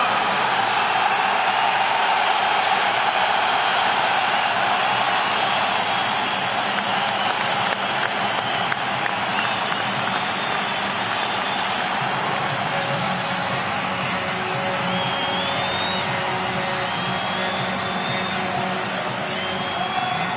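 A rugby crowd for Munster against Clermont roars continuously as the team takes the pitch, with a dense, sustained wall of cheering and applause filling the stadium and occasional whistles rising above the din.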